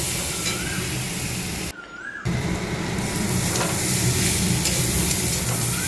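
Spices frying in a pan for a fish curry, a steady close sizzle and hiss with a brief dropout midway, while a bird calls faintly in the background.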